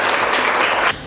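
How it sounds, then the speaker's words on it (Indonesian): Classroom applause for a student in a university communication studies lecture, a dense burst of many hands clapping together close by, steady for about a second before cutting off abruptly. "Tepuk tangan untuk Talia."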